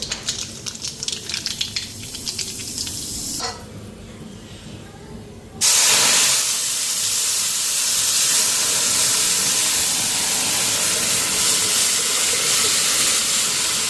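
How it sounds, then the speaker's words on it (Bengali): Very hot, overheated oil hisses and spatters loudly as nigella seeds fry in a home kitchen, a steady broadband sizzle that drops briefly, then surges back louder and continuous. "তেল বহুত গরম হয়ে গেছে একদম চারোদিক দিয়ে ডাল ছিটা ছিটা করতেছে"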